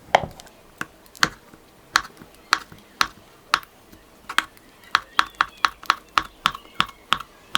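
Sharp knife chops through kaşar cheese on a cutting board, irregular at first then faster and steady, close and crisp over a quiet background.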